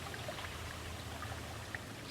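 A small brook running over land in West Boxford, a faint, steady trickle and burble of flowing water with a few soft droplet plinks, heard alone.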